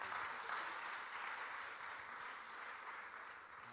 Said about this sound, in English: Give him a round of applause for that accomplishment.